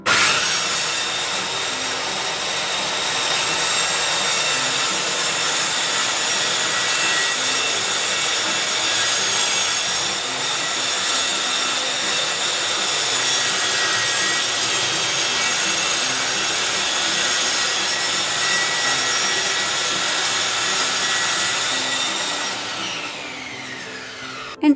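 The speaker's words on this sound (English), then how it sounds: "We cut the plywood sheet to the required sizes," Plywood sheet being cut to size for cladding an urban hen house, a steady continuous rasping saw sound running unbroken for the whole stretch with no talk.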